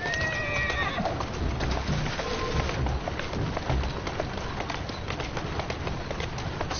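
A video game horse in Assassin's Creed Syndicate whinnies briefly at the start, followed by steady hoofbeats clopping along over a constant hissing background.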